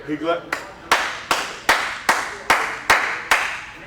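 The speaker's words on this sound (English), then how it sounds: "the loudest clap known in the history of American baseball" Sharp, loud hand claps in a steady rhythm, eight in a row, each ringing briefly, using a clapping technique known at TCU baseball games.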